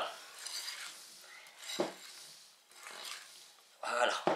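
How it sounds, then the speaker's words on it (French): A whisk or spatula works through a chocolate shortbread mousse batter in a bowl, with scraping strokes and clinks against the side, a few louder knocks, and someone talking in the background. "Alors, on mélange bien pour que tout soit bien incorporé"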